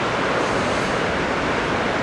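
Ocean swell and surf at the beach in Anglet, a continuous loud broadband wash of breaking waves and wind noise with no pauses, filling the whole moment.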